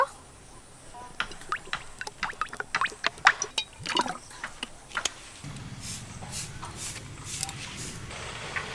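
White cooking oil goes into a wok to fry fish fingers: a few seconds of scattered clicks and knocks give way to a steady, soft, liquid hiss that continues to the end.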